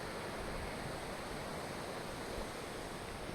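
A waterfall in the Den Finella ravine on Scotland's east coast makes a steady, broad rushing roar that stays even and continuous throughout, fairly faint and with no voices.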